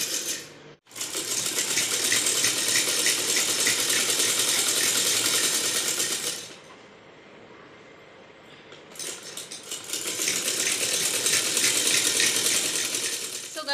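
A sewing machine stitches a shirt, running in two long loud mechanical bursts of rapid rattling with a quieter pause between them.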